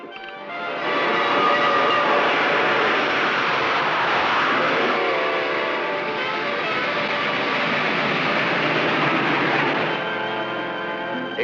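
A speeding passenger train running at a record 106 miles an hour, a loud sustained roar and rumble that swells in quickly and holds steady close by before easing slightly at the end.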